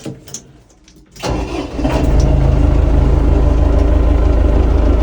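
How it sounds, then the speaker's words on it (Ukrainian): A Lovol 454 tractor engine cranks and catches, then settles into a loud, steady low idle that runs on without pause. "Звісно, мотор чути, але не так голосно."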